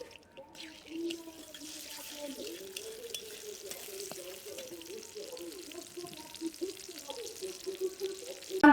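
Four dried red chilies and a bay leaf frying in hot oil give a soft, steady sizzle close by, while a voice talks over it throughout.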